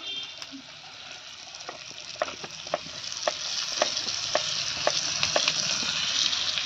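Spices with ginger, garlic and chili fry in a pan for an Assamese pork and chicken leg dish, a hissing sizzle under repeated sharp clinks of a utensil stirring against the pan.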